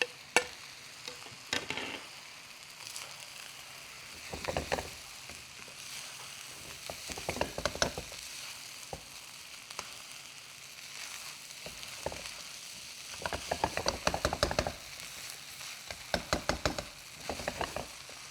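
Rice being stir-fried with chopped green onions in a pan, a soft continuous sizzle broken by bursts of spoon scraping and clinking against the pan, close and moderately quiet.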